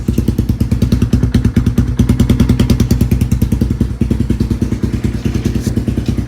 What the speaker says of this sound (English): Has a DG exhaust,